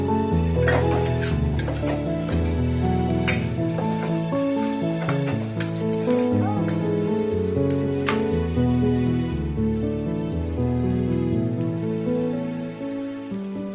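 Peanuts go into a pan of frying carrots for masale bhaat and sizzle steadily with occasional stirring clatter, while a melodic tune plays underneath throughout.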